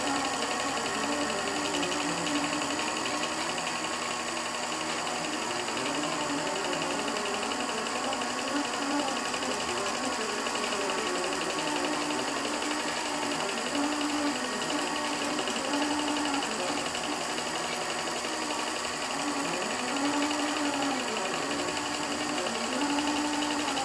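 An embroidery machine stitches a swag design in a steady, continuous mechanical whir and rattle, with a slight hesitation at a dwell point and no talking.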